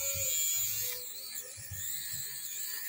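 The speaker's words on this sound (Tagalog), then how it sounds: "Peihong shaver." A small Peihong electric shaver runs with a steady, faint, high-pitched buzz, with a few soft low knocks from handling, close by and heard without talk.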